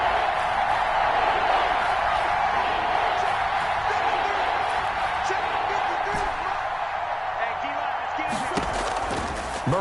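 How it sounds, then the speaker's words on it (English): Loud stadium crowd roaring in a PS4 football game, a sustained wall of cheering with a commentator talking over it. "That just means this crowd's going to get even louder."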